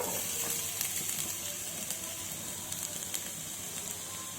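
Chopped onions and green chillies frying in oil in a pan give off a continuous low sizzle and hiss that stays faint and steady throughout, with no voices.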